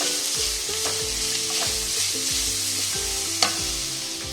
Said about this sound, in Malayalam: ഈ മിക്സിനെ നല്ലതുപോലെ കൂട്ടി യോജിപ്പിക്കുക